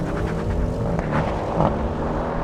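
An Audi RS6 and a BMW M5 accelerate side by side in a drag race, giving a close, heavy engine roar with shifting rev pitch throughout.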